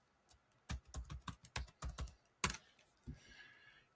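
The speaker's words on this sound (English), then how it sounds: "I'm going to type in Vocaroo." Fingers typing on a computer keyboard, a quick run of about a dozen close, crisp key clicks with one louder strike near the end, followed by a faint trailing hiss.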